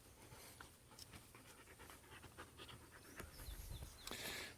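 A German Shepherd and Golden Retriever mix puppy panting outdoors, quick rhythmic breaths close by and fairly soft, continuing steadily with faint background noise.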